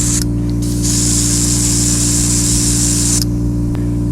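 A spray gun hisses steadily as it sprays gold paint onto slot car wheel rims, a loud continuous airy blast lasting several seconds over a constant compressor hum, then cutting off sharply.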